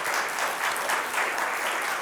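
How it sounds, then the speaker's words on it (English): Steady, dense applause from an audience at a Veterans Day gathering, a sustained wash of many hands clapping at even loudness with no voices standing out. "Let's give them a round of applause."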